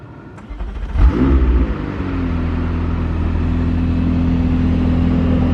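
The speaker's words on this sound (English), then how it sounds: "All right, let's fire the McLaren up." A McLaren 600LT engine cranks and fires, flaring up loudly before settling into a steady, deep, close idle drone that holds to the end.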